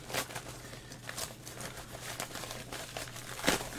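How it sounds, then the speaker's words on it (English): A mailed Amazon package is torn and opened up close: steady crinkling and rustling of paper and plastic packaging with a few sharper rips, moderately quiet, no talking. "So I'm going to open this up"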